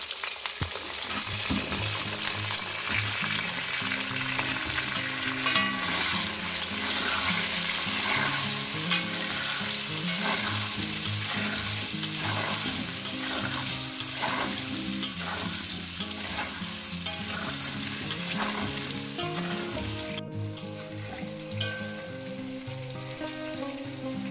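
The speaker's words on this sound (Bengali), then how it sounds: "আমি লাল লাল করে আলুগুলো ভেজে নেবো" Potatoes frying in oil until reddish-brown for a poppy-seed chicken dish, a dense continuous sizzle with repeated stirring and scraping of a utensil in the pan, close and steady for the whole stretch, with no talking.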